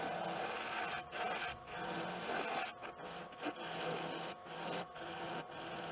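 A woodturning tool cuts inside a wooden box spinning on a lathe, giving a continuous close scraping rasp with short pauses as the tool is lifted and repositioned.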